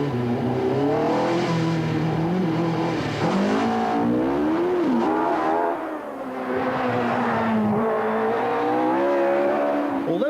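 Race cars warming their tyres at the start line of a British hill climb championship event, engines revving hard and continuously with rising and falling pitch and some tyre squeal, loud and close throughout.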